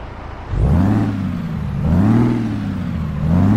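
Detroit Diesel 600 engine in a Peterbilt 389 truck in Euro Truck Simulator 2 starting up, a loud low rumble that swells and falls in slow revving waves, heard alone without talk.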